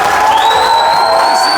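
Wedding guests on the bride's side applaud together at a celebration in Berd, a dense, steady burst of clapping mixed with crowd cheering and a few whoops, loud and close throughout.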